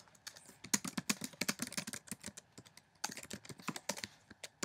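Rapid, steady keystrokes clatter on a computer keyboard, close and fairly quiet, with a brief pause midway before typing resumes.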